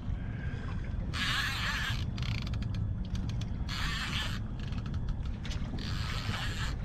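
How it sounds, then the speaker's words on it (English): A fishing reel's clicker rattles in rapid bursts as a striper runs and pulls line out, fading and surging repeatedly over a steady rumble of water and boat noise. "I just have the clicker on just so you guys can hear him run in between"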